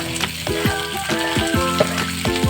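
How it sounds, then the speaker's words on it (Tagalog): Carrots frying in a pan for a sweet and sour fish fillet dish, a steady bright sizzle under a rhythmic series of downward-sweeping tones, with no voices. "Tapos, lagay na rin natin itong carrots."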